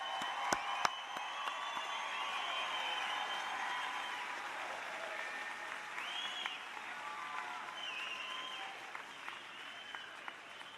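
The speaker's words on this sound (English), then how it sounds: "can we give our graduates one more round of applause?" Audience applause for graduates at the close of Moraine Valley Community College's May 2019 commencement, a broad sustained clapping in a large hall with a few sharp individual claps and whistle-like cheers riding over it.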